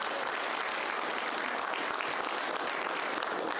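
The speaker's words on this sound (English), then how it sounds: "Hey, can I just get a clap for that?" Steady audience applause fills a commission meeting room, a dense, even wash of many hands clapping at once that holds throughout without letting up.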